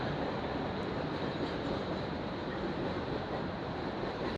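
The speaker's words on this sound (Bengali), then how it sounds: "ট্রেন ছেড়ে দিয়েছে" Twenty-two-coach Shalimar Express pulling away from a station, a steady low rumble of rolling wagons, faint and even throughout, with no voices.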